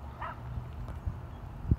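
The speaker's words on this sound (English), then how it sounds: "I'm a little scared by that freaking dog yapping" A small dog barking and yapping at a distance, with a few sharp yips spread over a couple of seconds against low background noise.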